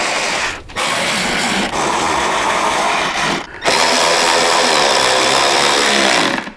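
A power tool whirring as it drives motorcycle fairing bolts, three loud sustained bursts separated by brief pauses, close by.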